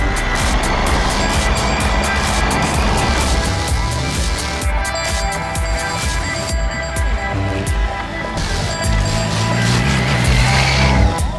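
A 2016 Triumph Tiger 800 XCX motorcycle ridden hard on off-road trails, its engine roaring loud and close with rising and falling throttle surges and rough, gritty texture throughout.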